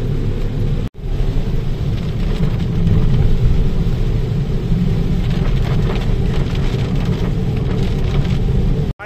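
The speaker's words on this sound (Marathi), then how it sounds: "पाऊस पण आलेला आहे।" Heavy rain drums on a moving car while driving home, a dense, steady roar of water on the body and windshield with road noise underneath, close and continuous.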